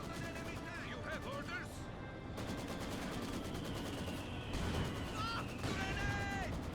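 A Maxim machine gun fires in Company of Heroes 2, steady rapid rattling under ongoing battle noise, with a voice talking over it.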